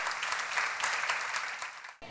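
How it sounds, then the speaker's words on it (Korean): A church congregation at a seminar sermon claps hard in a sustained burst of applause that fills the room, then cuts off abruptly near the end. "박수 좀 세게 쳐요."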